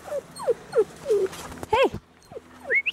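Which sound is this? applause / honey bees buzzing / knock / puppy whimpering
puppy whimpering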